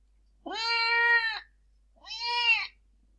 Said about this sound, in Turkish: Look. It's a white cat.